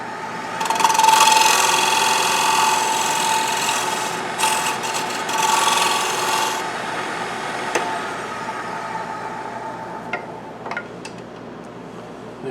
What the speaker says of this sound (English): I'm just going to use my square scraper, negative rake scraper, and come straight in on that